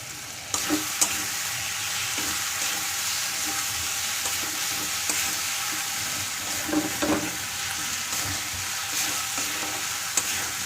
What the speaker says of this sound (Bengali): ফ্রাই হতে হতে বাকি মশলা ঢেলে দেবো।